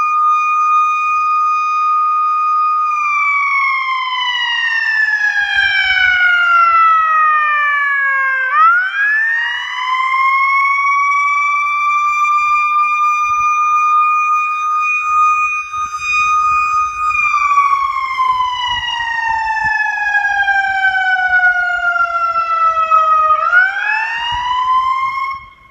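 A Powercall USB6100 100-watt siren amplifier plays a loud, clear electronic wail that sweeps slowly down and back up in long cycles, steady and close with no talking.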